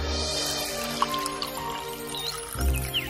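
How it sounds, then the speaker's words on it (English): Water is poured from a pitcher for an old woman in an animated children's story, a short liquid gurgle and drips with a soft splash near the end, close and brief, over a faint musical background. "she poured some water and quenched her thirst"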